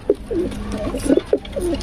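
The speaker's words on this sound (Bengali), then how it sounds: "কবুতরগুলো মাশাআল্লাহ অনেক সুন্দর" Pigeons in a loft, local Giribaz among them, give several clear, close, throaty coos in a loose, uneven rhythm.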